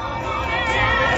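A crowd at the Hoppings fairground in Newcastle cheers on a ride, a loud, sustained roar of many voices with children shouting.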